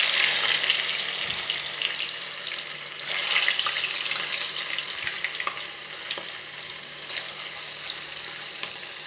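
Marinated chicken pieces deep frying in hot oil for chilli chicken, giving a dense, continuous bubbling sizzle that stays close and loud, with small pops and slight swells and no talk over it.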